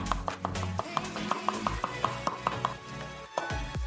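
Garlic is chopped finely with a knife on a board in quick, close, rhythmic taps, about a dozen strokes in a row, then a brief pause and a few more.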